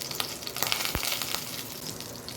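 Mustard seeds and cumin sizzle and crackle in hot oil for a Gujarati puffed-rice snack, a dense continuous frying hiss with small pops close up.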